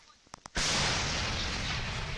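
A couple of faint clicks, then one loud, sudden artillery blast close by on the front line at Bakhmut, its roar lingering and rumbling for well over a second.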